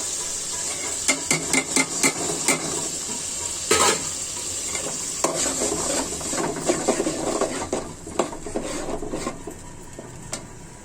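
Steady sizzling of blended onion, ginger and garlic paste in a hot pan with repeated scraping and stirring clicks from a utensil, close and fairly loud, no voices.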